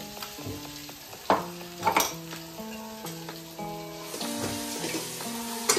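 A cabbage samosa filling with masala is stirred and fried in a pan, soft sizzling under repeated scraping and clinking spatula strokes against the metal, close and fairly quiet, with tonal background music.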